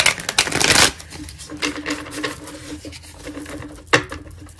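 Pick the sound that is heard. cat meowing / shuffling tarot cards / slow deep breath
shuffling tarot cards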